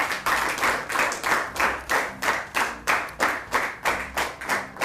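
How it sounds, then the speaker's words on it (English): Applause at a school debate after the first team is introduced: rhythmic, fairly unified clapping of a small group, with steady repeated bursts roughly every half second and no talking over it. "A round of applause for them."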